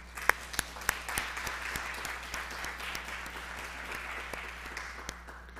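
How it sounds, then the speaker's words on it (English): An audience at a race relations event claps softly and steadily, a few sharp nearby claps standing out at the start before the sound settles into an even, distant patter with no voices. "Please give a big round of applause to Ms."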